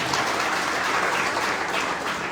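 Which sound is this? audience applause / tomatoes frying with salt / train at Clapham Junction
audience applause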